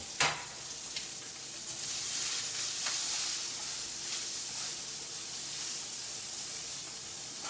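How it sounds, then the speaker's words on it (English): Onions seasoned with salt and pepper sizzle steadily in an Awaken180 skillet, a continuous bright frying hiss with a few sharper pops and stirring scrapes, close and moderately loud with no talking. "As you can see, the onions are cooking very quickly."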